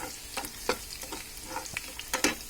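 Garlic and vegetables such as carrot and long beans sizzle in a hot pan while a utensil stirs them, sharp scraping clatters popping up every fraction of a second over a steady frying hiss.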